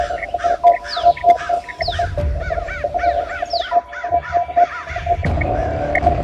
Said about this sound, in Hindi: ये आसमान में देखो कितने सारे कौवे उड़ रहे हैं।